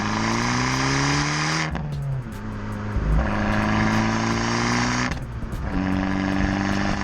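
An Abarth 595 engine revs hard and loud on a cold start, dropping off twice between surging pulls, with a rough, throaty, popping exhaust note close by.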